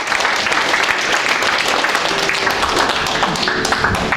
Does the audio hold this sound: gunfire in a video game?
no